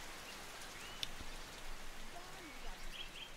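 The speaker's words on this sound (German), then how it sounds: "hört der Regen jetzt langsam mal auf?" Steady rain falling in the video game Norland, a continuous soft hiss of drops with a faint chirp near the start and no speech.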